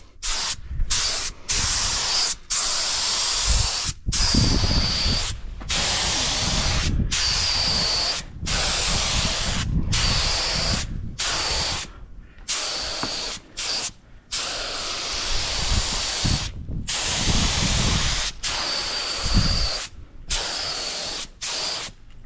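Spray gun applying a coat of paint on a Honda Civic, a long run of close hissing bursts with many short gaps between passes, steady and fairly loud throughout.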